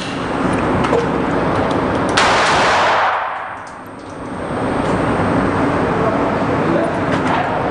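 A sharp, loud pistol gunshot bursts out, then fades into a steady wash of outdoor shooting range noise with faint murmuring voices beneath.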